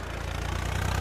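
A tractor engine running steadily nearby, a low rhythmic chugging throughout with no voices.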